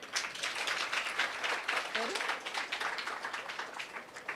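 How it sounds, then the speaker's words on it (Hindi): An indoor audience claps steadily and fairly loudly all the way through, at a gathering of BK teachers, with some voices mixed in with the applause. "ताली बजाओ।"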